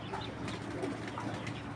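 Two fancy domestic pigeons coo close by, giving a soft, continuous low burbling with slight pulses that carries through the brief moment.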